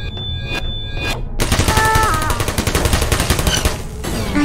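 Rapid automatic gunfire from turrets on a live fire course in the video game Portal, a dense burst of loud repeated shots following a few separate electronic beeps.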